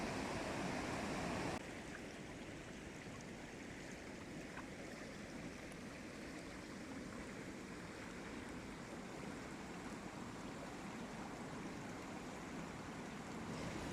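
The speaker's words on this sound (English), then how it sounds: "So the water is flowing really quite quickly" High, fast-flowing river water rushing steadily near the rollers, a dense continuous roar with no breaks and no voices, slightly louder at the very start.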